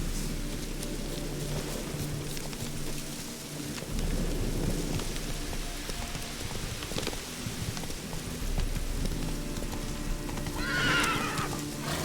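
Roach the horse in The Witcher 3 neighs with a clear whinny near the end, over steady rain and rumbling thunder, with hoofbeats and game music running underneath throughout.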